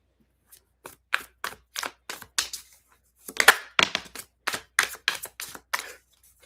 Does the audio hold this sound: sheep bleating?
no